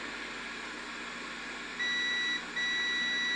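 Multimeter continuity tester beeping on circuit board pads of an Evercade VS console, two steady high-pitched tones in quick succession over a quiet room hum.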